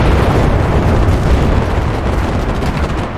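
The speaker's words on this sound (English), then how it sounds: "If these assholes keep throwing grenades at me" Grenade blasts in the World War II shooter Enlisted on a Normandy map, a loud, continuous rumble of explosions and booming fire that stays heavy and dense throughout.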